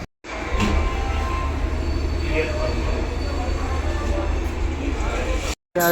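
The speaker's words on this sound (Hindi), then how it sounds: "चलिए ट्रेन के अंदर चलते हैं।" Inside a moving Chitrakoot Special express hauled by a WAG9 locomotive, a loud, steady rumble of wheels and carriage fills the air without letup, then cuts off abruptly near the end.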